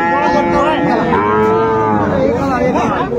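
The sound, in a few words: Sahiwal bull mooing at cattle market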